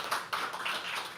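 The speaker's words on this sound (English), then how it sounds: "Keep clapping till she comes on stage" An audience at a live poetry open mic claps, a brief, dense patter of many hands at moderate volume.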